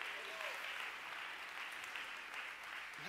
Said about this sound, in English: Come on, somebody, clap your hands to the Lord today.